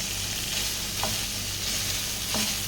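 Chicken, noodles and cauliflower sizzle and fry steadily in a pan as a continuous close hiss, with a couple of brief scraping stirs and no talking.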